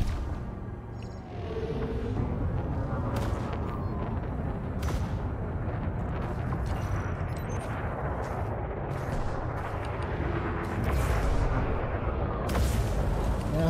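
Ships trade fire in the space combat game Elite Dangerous, with repeated heavy cannon booms and blasts layered over a dense rumbling din, the shots landing irregularly over roughly fourteen seconds.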